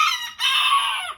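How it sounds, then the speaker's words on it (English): A rooster crows loud and near in a single drawn-out, strained call with a brief break early on, one of two rival roosters. "That's the most annoying crow ever."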